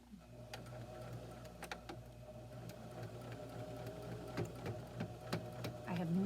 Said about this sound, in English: my needle is going to go 1/2 of an inch from the edge of my fabric